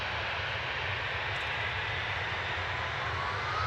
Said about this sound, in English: GZTM departing now for EasyJet to Amsterdam.